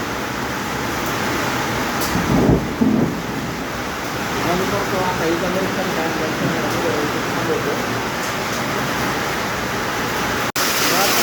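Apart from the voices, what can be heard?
hail and heavy rain pattering on a metal sheet roof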